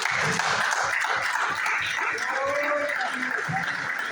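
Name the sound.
audience applauding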